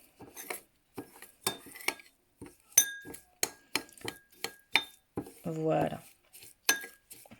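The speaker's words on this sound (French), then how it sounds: "On met une cuillère et on mélange pour obtenir" A spoon stirs and clinks against a bowl while a facial scrub is mixed, giving a run of short, close taps and scrapes, with a brief voice speaking near the end.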